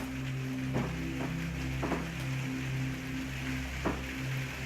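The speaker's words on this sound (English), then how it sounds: "There's a little bit of rain coming down on the sunroom roof" Light rain patters steadily on a sunroom roof, a soft continuous hiss with a few slightly louder drops standing out over a low steady hum, with no voice present.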